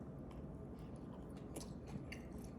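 Crunchy Little Debbie ice cream topped with green crystallized sugar being chewed close up, a steady stream of soft crunching and mastication with a few sharper crisp bites.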